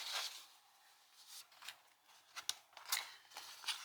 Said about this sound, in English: it's literally just me cutting these out